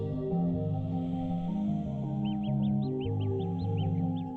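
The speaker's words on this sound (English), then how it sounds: "Like a cycling bird, it sounds like." Electronic music track with sustained synth tones, joined midway by a quick series of repeated chirping, bird-like blips cycling high above the music.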